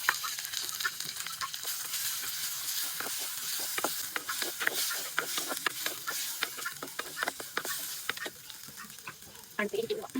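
Onion, chili, garlic, curry leaves, ginger and tomato fry in a pan for a cauliflower curry, giving a steady sizzle with scattered sharp stirring clicks and scrapes throughout, close and moderately loud.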